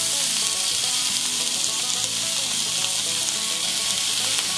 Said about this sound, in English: Keep in mind that we're using cast iron today. We're going to go ahead and put our steak on there.